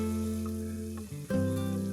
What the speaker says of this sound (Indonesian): Dan akan kita tumis hingga sambal matang dan juga harum.